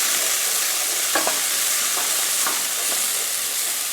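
Minced garlic, a little over a teaspoon, sizzles steadily in a pan for quinoa fried rice, a constant close hiss with a few light scrapes of stirring and no voices.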